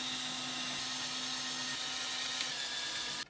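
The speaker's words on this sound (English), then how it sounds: "Drill some holes in the table." Steady power drill boring holes into a table, a continuous whirring drone with a faint tonal hum that runs unbroken for about three seconds before cutting off abruptly at the end.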